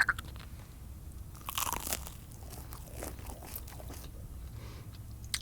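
Crunchy bites and chewing on chicken minis dipped in Chick-fil-A sauce, close to the mic, with one loud crunch burst midway and softer mastication throughout, no talking.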